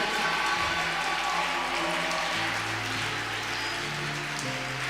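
A church congregation applauding and cheering during a sermon, a dense, steady wash of clapping with sustained tones from instruments or voices running underneath throughout.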